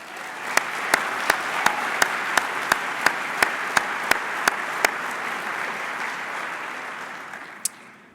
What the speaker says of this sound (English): Please join me in a round of applause for those that are joining us